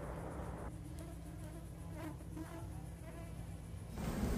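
A honeybee colony of about 30,000 bees nested inside a garage wall gives off a steady, dense insect drone that holds at an even level throughout and grows slightly louder near the end.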